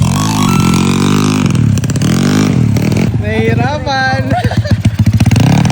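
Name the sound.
motorcycle engine revving on practice circuit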